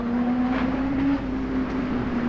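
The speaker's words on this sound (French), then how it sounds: "Et ça, c'est le bruit d'une moto." A motorcycle's steady engine drone hums through the whole moment, a sustained low tone with a slight pitch shift as it goes by on a road toward Fort-de-France.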